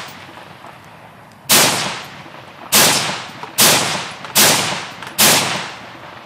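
Five sharp AR-15 rifle shots during a field stress test, loud and close, spaced irregularly about a second apart, each cracking out with a quick decaying tail; no talking.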